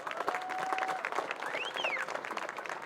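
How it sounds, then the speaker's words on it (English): A crowd at a Division III high school playoff basketball game applauds the pep band seniors, with dense steady clapping and scattered whistles and cheers, loud and sustained. "Let's have a round of applause for our pep band seniors."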